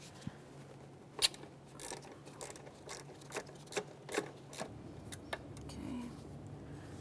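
Ratchet wrench with a 12 mm socket loosening a bracket mounting bolt near the throttle body of a 2008-2017 Mitsubishi Lancer, heard as a series of quick clicking bursts and metallic clacks, fairly faint with quiet gaps between them.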